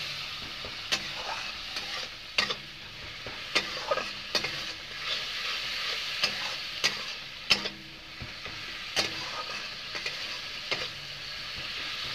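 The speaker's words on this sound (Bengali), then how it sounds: "জল দিয়ে এখন ভালোভাবে ভাজে নেব।" Fish and snail curry stir-fried in a pan with a little water added, giving a steady wet sizzle broken by sharp scraping stirs at irregular intervals, close and fairly loud with no talking.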